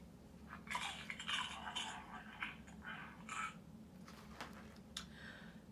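A human voice imitates a greedy monster munching a snack, making a quiet series of crunchy chewing and biting noises in short bursts with pauses between them.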